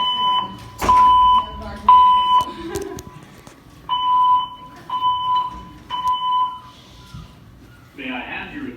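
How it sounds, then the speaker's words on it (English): A hotel fire alarm at the Doubletree in Niagara Falls sounds in repeated tonal beep bursts with pauses, loud and near, while a recorded voice announcement plays alongside. "There has been a fire alarm reported in the building."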